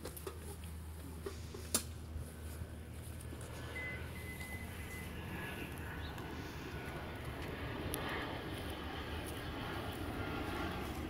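An airplane flies overhead near an airport, a steady engine drone that slowly swells louder over about eleven seconds, with no one speaking.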